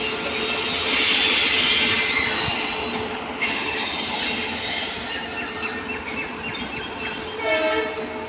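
The Cholan superfast express train leaving Tiruchirappalli for Chennai Egmore rolls past loudly with a constant rumble and high metallic wheel squeal, steady and close, with occasional clanks from the cars.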